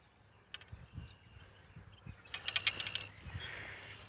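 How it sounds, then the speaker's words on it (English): New Pflueger baitcaster fishing reel in use while casting: quiet mechanical clicks and ratcheting whirs come in short bursts, including a brief rapid spinning run, close to the microphone with no talking. "I might try a few casts right here in this spot where I usually fish"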